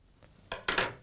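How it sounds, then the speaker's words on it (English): Metal scissors handled at a sewing table during a wall-hanging sewing session, giving a few sharp clinks and clacks that grow louder toward the end, with no talking. "There's my scissors."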